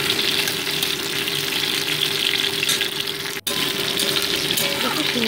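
Flat bean and potato pieces crackle in oil in a pan, a continuous close sizzle with a brief dip in the middle before the dense frying hiss resumes, with no talking.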